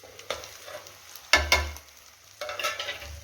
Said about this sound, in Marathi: मसाले छान असं मिक्स करून घेऊया तेलामध्ये